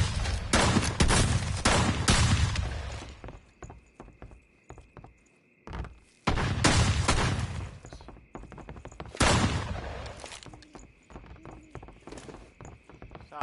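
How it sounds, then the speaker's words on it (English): Bursts of video game gunfire in an online shooter, loud volleys around the start, middle and near ten seconds, with quieter scattered shots and clattering between them. "Please stop shooting."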